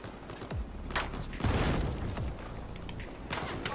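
A tank cannon blast in Battlefield 4 multiplayer on the Silk Road map, a loud booming hit among scattered gunfire and explosions, with a player's voice heard over the battle.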